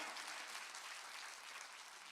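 A church congregation claps hands during a sermon, a soft, dense, continuous patter of many hands heard at a distance.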